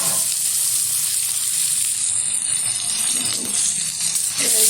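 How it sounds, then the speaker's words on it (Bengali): Eggplant pieces fry in mustard oil with turmeric, producing a bright, steady sizzle and hiss close up, with a few faint rattles from the pan. "শুধু এখানে তেল আর হলুদটা দিয়ে বেগুনটা ভেজে নিচ্ছি।"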